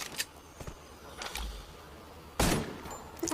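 Gunfire in a shooting video game comes as a few sharp, scattered shots over a low background, with the loudest blast near the end.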